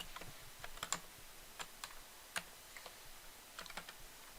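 Sparse, quiet clicks from a computer keyboard as Ctrl+C and Ctrl+V shortcuts are pressed, a few isolated key taps spread over a few seconds, with no talking.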